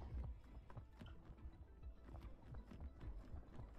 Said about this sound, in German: Das sind echt krasse Pferde, ja.